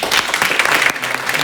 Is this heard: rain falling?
no